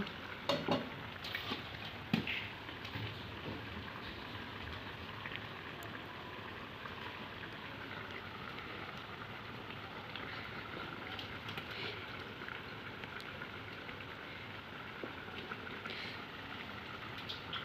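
Small fish going one by one into a simmering eggplant and potato curry, a steady close sizzle and bubbling hiss with a few brief clinks near the start, no voices.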